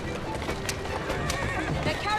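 Horses whinny and hooves clip-clop as a horse-drawn carriage rolls through the streets of Victorian London in Assassin's Creed Syndicate, heard under a voice speaking.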